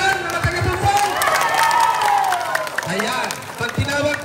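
An outdoor community gathering crowd claps and cheers in a sustained wash of applause, with voices and shouts rising over it.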